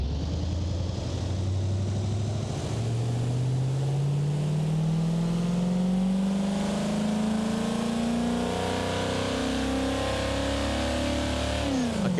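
A 1960 Gavril Bluebuck 292 car in a video game accelerates from 0 to 60: a single engine note climbs smoothly in pitch, then drops sharply at a gear change near the end, loud and close with no talking.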